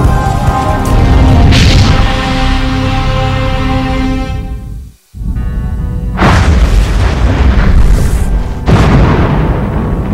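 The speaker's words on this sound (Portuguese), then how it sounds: "As explosões mortíferas das supernovas são fascinantes" A loud, deep cinematic supernova explosion sound effect rumbles and roars, cuts to a brief silence, then a second booming blast surges back with crackling bursts.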